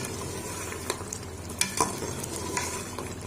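Whole spices roasting in a little over a spoonful of cooking oil in a pan for chana chawal, a steady soft sizzle with a few sharp utensil clicks against the pan, close and alone with no talk.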